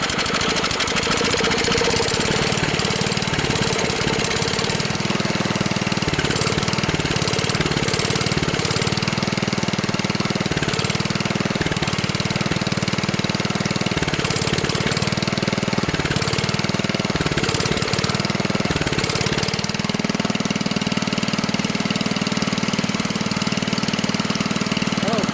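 A Kohler K141S single-cylinder engine on a Bolens Husky 600 garden tractor idles steadily and close by, a continuous low thrumming with slight rhythmic unevenness and a small shift in tone near the end.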